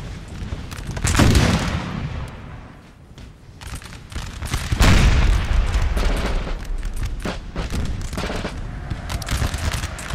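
Musket and cannon fire from a Napoleonic battle in Napoleon: Total War, with ragged volleys crackling and booming in loud bursts, swelling twice into heavy rolling fusillades over a constant battlefield rumble.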